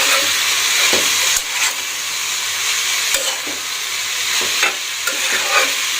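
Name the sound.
stirring green chilies and bitter gourd in a pan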